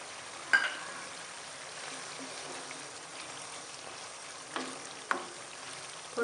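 Cumin seeds frying in oil for aloo matar, a faint soft sizzle with a few sharp taps and clinks from a utensil, quiet and close with no voices.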